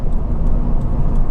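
A Mazda MX-5 2.0i Venture roadster drives along, its engine and road noise forming a loud, steady low rumble heard close up for a moment, with no talking.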